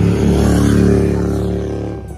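Yamaha MT-15 motorcycle fitted with an Akrapovic full system exhaust, giving a loud, close, throaty engine drone that holds steady and then eases off at the end.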